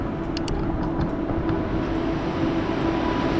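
Cabin sound aboard the KLIA Express airport train in Malaysia, a steady loud rumble with a humming drone and a few faint clicks early on, no one speaking.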